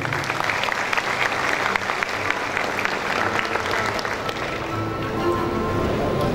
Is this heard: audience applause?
yes